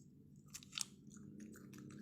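Close, quiet crunching and chewing of an apple being eaten, with a few crisp bites followed by steady mastication.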